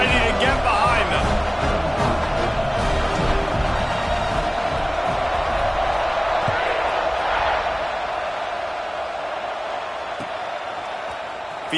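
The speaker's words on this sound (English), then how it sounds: "They're set to kick it off, and this crowd now ready to get behind them." A stadium crowd at a college football game between Auburn and Arizona State roars steadily before the kickoff, a broad wash of cheering under an announcer's continuous commentary.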